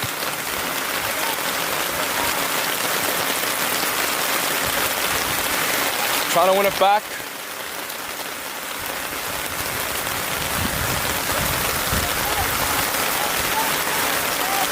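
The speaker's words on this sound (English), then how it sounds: "It is absolutely pouring." Heavy rain pours steadily over an outdoor soccer match at Langley High School, a dense, loud hiss filling the whole stretch, with a commentator talking over it and a brief louder burst near the middle.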